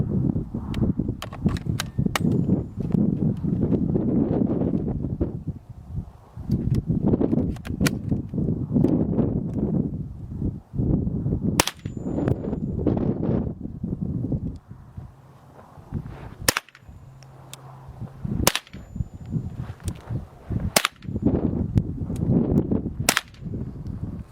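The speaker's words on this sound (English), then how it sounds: "shooting the ISSC MK22, shooting some Winchester white box." An ISSC MK22 .22 LR pistol fires Winchester white box ammunition outdoors, with many sharp cracking shots in uneven strings and pauses, loud and close over a low background rumble.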